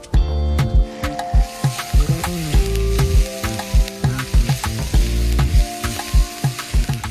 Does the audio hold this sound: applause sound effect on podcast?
no